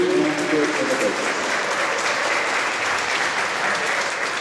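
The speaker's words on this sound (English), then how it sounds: "a round of applause for you and your coaches" An audience at a synchronized swimming water show in Calgary in 2013 applauds the swimmers and their coaches, a steady wash of many hands clapping that holds at even loudness with a faint crowd murmur.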